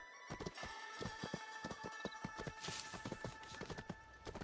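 Horse hooves clip-clopping in a steady trotting rhythm while riding in the video game Where Winds Meet, a close, clear run of quick hoofbeats with no voices over them.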